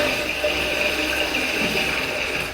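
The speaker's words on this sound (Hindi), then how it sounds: "यहाँ से पानी आएगा, यहाँ से आप फ्लश कर सकते हो" Water runs steadily in an underground bunker bathroom with a working toilet flush and water piped in from a well, a constant close hiss and rush that holds throughout and tapers slightly at the end.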